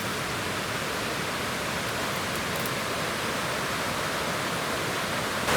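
A constant rushing of a Carpathian mountain river, broad and steady like a nearby stream over rocks, with no voices.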